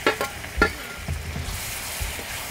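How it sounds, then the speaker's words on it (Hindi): Chopped tomatoes sizzle in frying masala with red chilli, a steady hiss of frying broken by the scrape and clack of a spoon stirring the pan, close up. "इसमें हम डालते हैं कटे हुए टमाटर"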